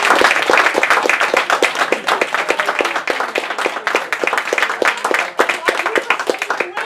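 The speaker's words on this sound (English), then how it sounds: "I'd like to nominate Dr. Dubois for a round of applause." A room of people gives Dr. Dubois a round of applause after a diabetes-protocol presentation, producing continuous, dense clapping for about seven seconds at an even, fairly loud level.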